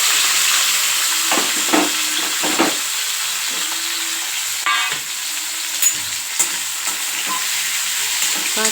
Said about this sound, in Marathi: आता त्याला टाकून मी चांगलं असं परतून घेणार